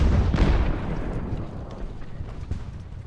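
Cannon fire in the Ultimate Admiral: Age of Sail battle game: a heavy booming blast opens, then rumbling echoes and a few scattered distant shots trail off.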